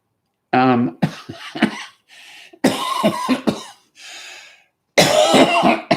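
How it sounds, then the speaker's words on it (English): A person coughs after smoking a spliff: several harsh, wet coughing bursts close up, separated by short pauses and throat-clearing rasps, one wheezy, breathy stretch in between. "apparently it makes one cough"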